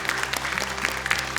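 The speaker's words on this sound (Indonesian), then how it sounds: "tepuk tangan untuk Dewan Juri kita." Audience applause for the jury panel at the Hafiz Indonesia 2021 Quran memorization show, a steady burst of clapping from a studio crowd sustained for the whole moment, with no voices over it.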